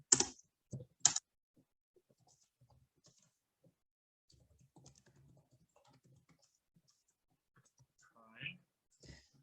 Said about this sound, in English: my keyboard's having trouble